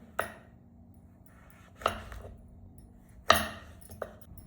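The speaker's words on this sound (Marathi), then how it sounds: "सर्व दोडके मी असेच कापून घेणार आहे।" Ridge gourd being chopped with a knife on a board, three sharp, distinct cuts spaced a second or more apart plus a lighter tap near the end, close and clear over a quiet background hum.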